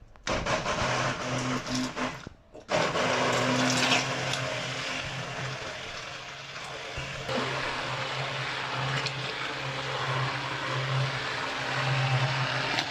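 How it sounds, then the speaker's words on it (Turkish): A blender purées İskender sauce, whirring steadily with a dense, grinding motor hum, briefly cutting out once before running on continuously and loud. "Şimdi blenderla iyice inceltip pürüzsüz bir kıvam olmasını sağlayacağız."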